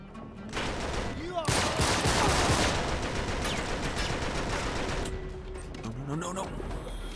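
Rapid bursts of gunfire from the Uncharted 3 video game, a sustained close fusillade of shots with a player talking over it.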